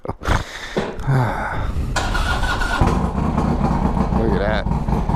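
A motorcycle with an S&S 124 engine starts up close by, then settles into a loud, rough, throbbing idle and revs, with a voice talking briefly over it.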